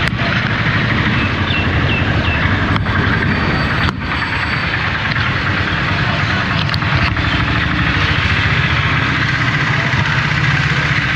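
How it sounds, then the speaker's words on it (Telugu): An auto rickshaw engine outside gives a steady, loud mid-pitched drone that carries on without a break, picked up in the open street with no talk. "బయట ఆటో సౌండ్ అసలు ఎలా వస్తుందో చూద్దాం."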